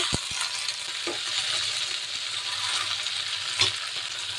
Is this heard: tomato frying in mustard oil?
yes